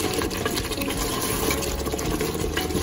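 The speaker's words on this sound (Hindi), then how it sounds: "इसमें हम थोड़ा सा पानी डालेंगे" Water being added to a potato and meat curry in a pressure cooker, heard as a steady, continuous liquid rush close by, without talk.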